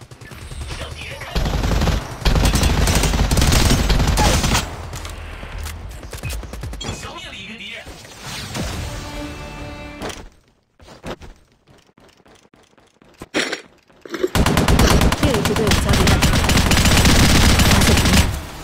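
Gunfire in the High Energy Heroes shooter game: repeated bursts of rapid automatic fire and explosions from grenades, loud and dense, broken by a quieter stretch midway before heavy shooting resumes.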